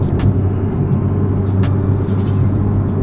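A tuned BMW 435i with a Stage 2 setup idles steadily right after start-up, a dense low engine rumble that stays loud and unbroken for the whole span, with faint higher ticks over the drone and no voices.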